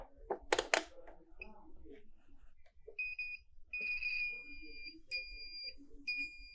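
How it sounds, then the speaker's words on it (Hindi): A multimeter set to continuity mode beeps while probing a phone battery connector: steady high electronic tones sounding in several bursts of varying length, clear and fairly close, after some brief handling noises. "मीटर को मैंने बीप कंटिन्यूटी की रेंज पर सेट कर दिया है।"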